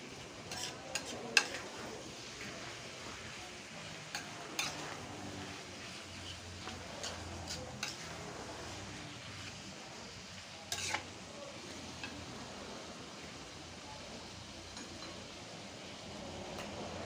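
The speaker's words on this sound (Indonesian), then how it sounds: "Kita goreng sampai semuanya tercampur rata dan parenya layu." Bitter melon (pare) stir-fried in a pan for an Indonesian oseng pare, giving a faint, steady sizzle with a few sharp clinks of a utensil against the pan, no talking.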